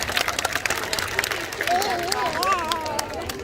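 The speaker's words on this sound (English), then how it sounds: "Everyone give him a big clap." An audience at a bird show at Taronga Zoo in Sydney claps for a flying bird, scattered applause and crowd murmur under a voice, with a bird's wavering whistle-like call rising partway through.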